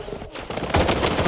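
In the shooter game Blood Strike, a rapid burst of automatic gunfire crackles close and loud, intensifying sharply toward the end of the short moment.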